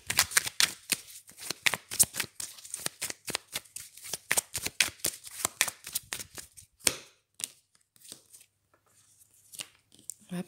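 Tarot cards being shuffled by hand in rapid riffling bursts, close and crisp, for about seven seconds before slowing into a few scattered taps and card slides.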